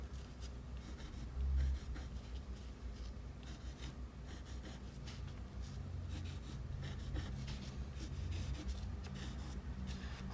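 Graphite pencil sketches spikes of hair one by one on paper, producing repeated short scratchy strokes in a steady rhythm, close-up and quiet, with nobody talking.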